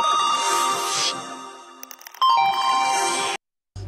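A bright electronic ringtone plays a tinkling melody of repeated chimes, with a short pause before it cuts out abruptly near the end.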